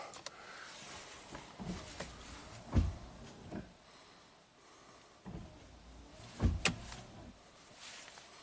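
Windshield wipers on a Toyota Sienna with 551k miles, set to intermittent, make two close, soft motor sweeps about four seconds apart against a quiet background, with no talking.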